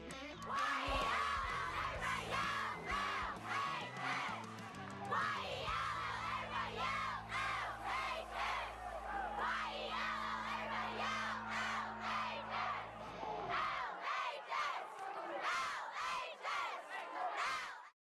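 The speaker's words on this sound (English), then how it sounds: "our cheer of the night. It comes from the girls at Ledford High School." High school cheerleaders from Ledford High shout a rhythmic, punchy cheer in unison, with crisp repeated yells over a low musical backing that stops near the end, leaving the chanted voices alone.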